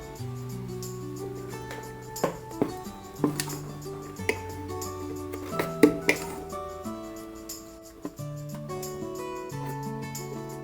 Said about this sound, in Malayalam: നമ്മുടെ മാവൊക്കെ ഒരു 5 മണിക്കൂർ കഴിഞ്ഞ് ഒന്ന് ഇളക്കി കൊടുക്കുക